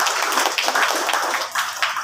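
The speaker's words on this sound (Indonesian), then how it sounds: "sekali lagi tepuk tangan untuk kita semua" A crowd at a teachers' workshop festival applauds with steady, dense clapping that carries on throughout without pause.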